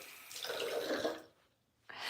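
Water runs from a bathroom tap in a steady broadband hiss for about a second and a half, then cuts off briefly before flowing again, with no talk over it.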